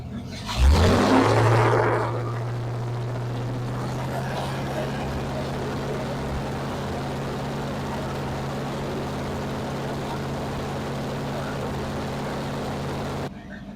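A Pontiac Firebird engine starts up with a brief surge, then settles into a steady, close, continuous idle hum that runs evenly to the end, with faint talk in the background.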